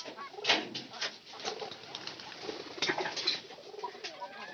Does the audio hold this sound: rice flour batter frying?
no